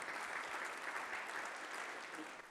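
Audience at a gathering clapping for themselves, a brief dense burst of steady applause, fairly faint and even throughout.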